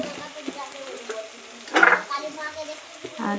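Coriander and chili powder fry and get stirred in a pan for a jackfruit curry, giving a steady close sizzle with scraping strokes and a louder burst of hissing midway, plus some faint voice in the background.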